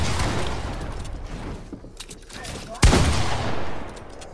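Video game gunfire in a fast competitive shooter match, with a dense clatter of shots throughout and a single sharp, loud report near the end, over a busy in-game background.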